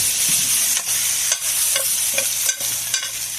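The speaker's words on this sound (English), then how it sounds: "So this is sauteing, getting it all together, the onion, the garlic, and the beef" Onion, garlic and beef sauté in a pot for homemade beef stew, a close, continuous crackling sizzle broken by rhythmic stirring scrapes about every half second.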